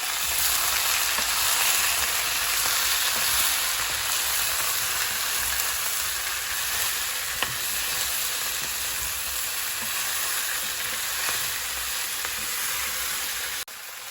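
Potatoes frying in oil over full heat beside a fish fry, a loud, dense, continuous sizzle with a hiss like rain that holds steady the whole time, heard alone with no talking.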